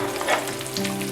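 Curry leaves, garlic and chopped ginger crackle in hot oil for a Kerala-style prawn pickle, giving a loud, dense, close sizzle that holds steady throughout.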